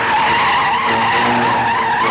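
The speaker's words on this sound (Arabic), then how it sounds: "وبنلاقي صوت تخميسة فراري كده" Car tires skid and screech in a film scene, a loud, sustained high squeal over an engine roar, with no talk.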